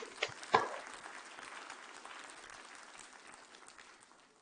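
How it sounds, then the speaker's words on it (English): Warm audience applause for university leadership and staff at a PDPU convocation ceremony, a few sharper claps at the start, then soft steady clapping that gradually fades. "Let us give them a warm applause"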